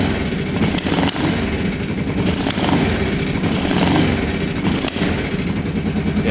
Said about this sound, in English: Yeah, it's backfiring through there.